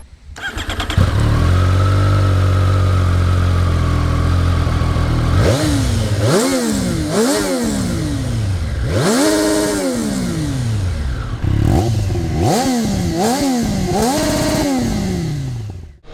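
A loud Triumph 765R sport motorcycle engine idles, then revs repeatedly through rising and falling bursts as it accelerates up close, no talking.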